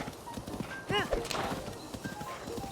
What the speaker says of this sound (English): there's one that kind of resembles Ganondorf's horse from Ocarina of Time